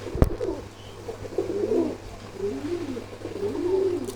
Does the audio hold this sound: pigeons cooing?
yes